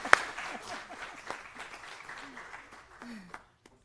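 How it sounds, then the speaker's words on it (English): Applause from an audience at a school board meeting, a steady patter of clapping for about three seconds with some voices mixed in, ending abruptly. "Let's give her another round of applause."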